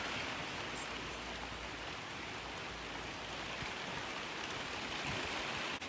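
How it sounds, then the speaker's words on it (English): Steady heavy rain from Hurricane Gordon pouring outside a rabbitry, a dense, constant hiss without pauses, close and fairly loud, no one talking. "it has been raining non-stop for like 3 days now"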